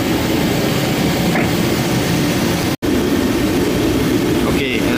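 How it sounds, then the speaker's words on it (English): A heater runs as a loud, constant broadband roar inside a workshop during a Skybolt biplane build, steady throughout apart from one very brief dropout near the middle. "sorry about the heater noise in the background here"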